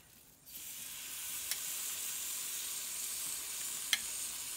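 Swordfish and shrimp hit a hot grill and break into a loud, steady hiss of sizzling after a brief quiet start, with two faint sharp clicks along the way and no voices.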